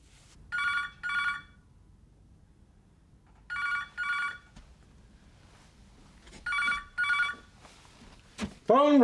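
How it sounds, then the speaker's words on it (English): A classic UK landline telephone bell rings in three distinct double-ring bursts with quiet gaps between, in a 1997 home scene from a soap drama, ending with a brief clatter as the handset is picked up. "Phone, Rach."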